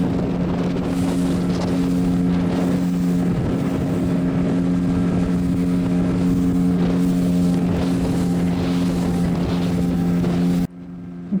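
A speedboat cruises on the sea off Goa with a steady, loud engine drone and rushing wind and water, holding constant for about ten seconds before cutting off.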